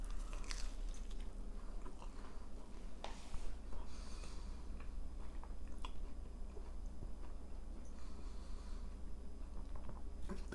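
Close, quiet chewing and crunching of a bite of light, airy Roman-style pizza crust made from long-fermented dough, with irregular soft bites and squishes repeating throughout and no talking.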